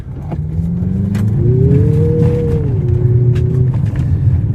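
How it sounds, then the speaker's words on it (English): A Mazda CX-50 Meridian floored on gravel, its engine revving up strongly and steadily in pitch, loud and close for several seconds before easing slightly, with no voices. "You can even floor it there on the gravel"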